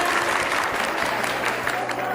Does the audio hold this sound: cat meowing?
no